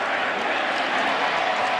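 A loud football stadium crowd roars steadily at a Marshall Thundering Herd versus Western Kentucky Hilltoppers college game, a dense, sustained wall of noise with no breaks.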